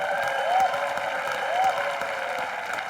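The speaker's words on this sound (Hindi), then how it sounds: "इनके लिए जोरदार तालियां होनी चाहिए" A studio audience at a comedy show claps for two daughters-in-law, a steady wash of applause with a couple of brief whistles rising above it.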